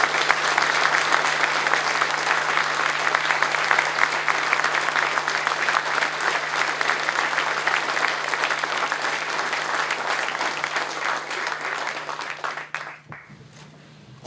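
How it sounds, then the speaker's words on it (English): Thunderous applause from the audience at a military NCO induction ceremony, a dense sustained wash of clapping that holds strong for over twelve seconds before fading out, with a low steady hum beneath it. "join me in a thunderous round of applause for our newest inductees"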